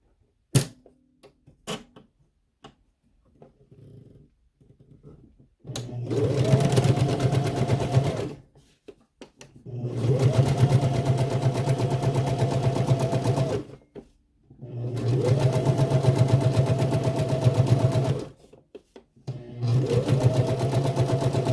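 A sewing machine top stitching a zipper into a skort waistband, running in several long, steady buzzing bursts separated by pauses with small clicks and handling noises, close and loud.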